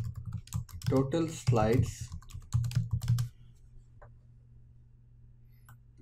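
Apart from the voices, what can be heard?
typing on a computer keyboard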